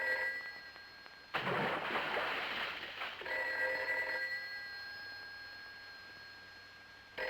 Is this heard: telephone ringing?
yes